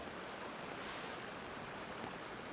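A waterfall in Genshin Impact gives a steady, even rush of falling water, soft and constant with no voices.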